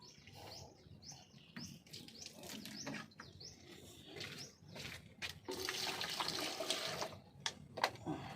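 Tap water runs for hand washing in a home garden, a steady splashing rush that swells in the second half, with birds chirping and tweeting nearby throughout.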